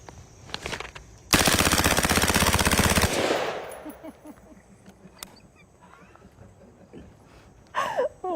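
A sustained, rapid burst of automatic gunfire from an Ontario County SWAT team firearm, loud and close for about two seconds, then fading into quieter outdoor background with a few faint scattered sounds.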